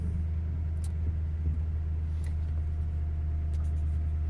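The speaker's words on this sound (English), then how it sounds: "Then you put it into park and let it idle." A Toyota Tundra engine idling in park, a low, steady rumble with a constant hum and a few faint clicks over the top.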